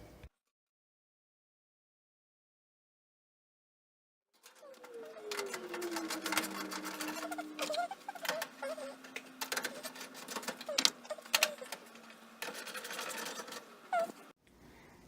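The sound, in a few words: repaired clothes dryer running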